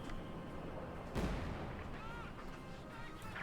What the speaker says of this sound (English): We got the German mortar ready here. We got the Serb mortar going at it as well.